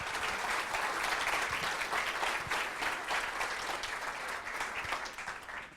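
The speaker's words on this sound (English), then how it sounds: "Let's give a round of applause." Steady round of applause from an audience at a 1 Million Cups Wichita entrepreneur presentation, sustained dense clapping at moderate distance with little talk.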